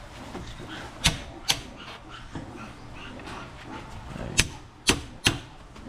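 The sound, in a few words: chiseling wood with a chisel and hammer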